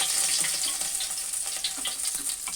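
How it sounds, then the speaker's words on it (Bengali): Foli fish (featherback) fries in oil while being turned, a soft continuous sizzle with light crackles and faint clinks, close by and without talk. "মাছটা এখন আমি উল্টে পাল্টে ভালো করে ভেজে নিব"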